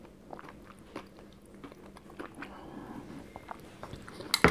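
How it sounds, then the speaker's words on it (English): Crunchy bites of air-fried apple crumble come through as soft, close chewing with scattered crisp crunches, ending in one sharper crackle, and no one speaks. "And there's a little bit of crunch to the crumble"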